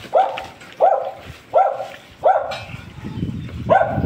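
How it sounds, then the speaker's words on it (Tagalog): A dog barks loudly and close by in a Philippine home, five evenly spaced barks roughly every three-quarters of a second, with some background noise between them. "Maingay lang ngayong aso."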